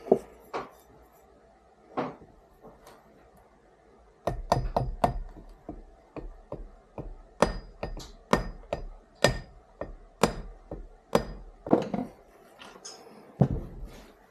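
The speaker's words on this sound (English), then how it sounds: "Now we can give it a little tap with the hammer." A hammer taps a clutch part into place on a 1934 DKW SB 350 motorcycle in sharp, close strikes, first sparse, then in quicker uneven bursts with brief pauses.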